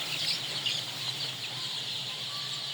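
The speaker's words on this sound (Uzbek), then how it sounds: "Bu ukamizga iltimos qilganlarga boqib berib turilgan jo'jalar." Leghorn mix chicks and chickens cluck and chirp in a farm pen, a continuous close chatter of high peeping with a low hum beneath, no talk.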